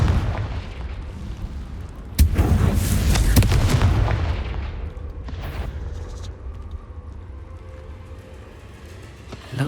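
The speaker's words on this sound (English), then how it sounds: "Confringo!" Confringo fire spell blasting in Hogwarts Legacy inside a cave: a sudden loud explosive burst with crackling debris, then a long rumbling decay into low ambient noise, ending with a small thump.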